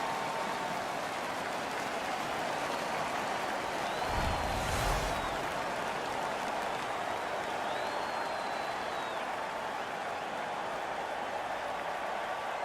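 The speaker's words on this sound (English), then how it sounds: "The crowd is ecstatic." Arena crowd noise at an NHL 15 hockey game in Calgary after a fight, a dense steady roar of cheering filling the whole stretch, with a brief louder thump and a couple of faint whistle-like tones over it.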